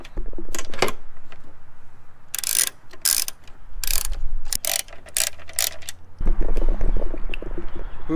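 A hand ratchet works on the strut tower brace bolts of a Subaru Impreza. Close, loud clicking runs in quick bursts separated by brief pauses, with no voices.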